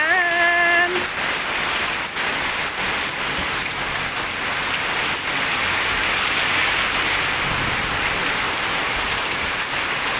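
Heavy rain pouring steadily onto surfaces, a dense, continuous hiss that stays loud and even throughout, with a brief tonal beep near the start.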